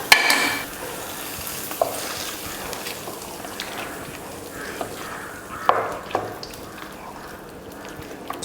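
A spoon mixing hot tempering and coriander leaves into curd rice, producing soft wet squelching and intermittent scraping strokes against the bowl, close by and without talking.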